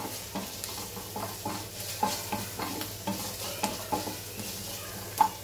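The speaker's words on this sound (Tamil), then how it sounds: "நல்லா கிண்டி கொடுப்போம்" Ginger and garlic paste is stirred in a frying pan for a potato and cauliflower dish, with a steady close sizzle and repeated spatula scrapes at an even pace throughout.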